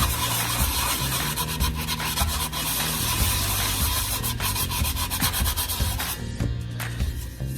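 Steady abrasive sanding of a glitter-coated tumbler cup, a continuous close rubbing and scratching texture with rhythmic back-and-forth strokes, no speech.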